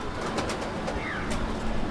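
A male pigeon in a loft gives a soft, low coo amid steady broadband background noise, brief and fairly close.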